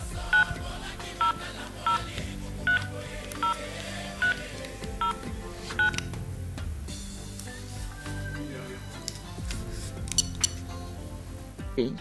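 Telephone dialing tones on a landline: a steady run of about ten short, evenly spaced beeps, each a clear pitched tone, followed by quieter room noise and faint clinks.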